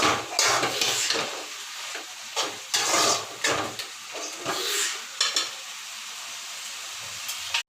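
Tomato and coconut frying in a pan for egg gravy, a steady sizzle with repeated bursts of scraping and stirring, close and fairly loud, no voices.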